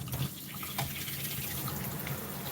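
Water spraying steadily from a Chris Christensen bathing system nozzle while a dog is bathed, a continuous close hiss with a low hum underneath and no speech.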